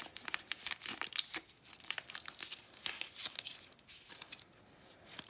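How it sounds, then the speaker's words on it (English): Tape, such as duct tape, being wrapped around a tool crackles and crinkles in quick, uneven tearing bursts close by, each pull and press of the strip sounding sharp and papery, with no voices over it. "really press that tape in. And then I'm gonna wrap that around a bunch of times."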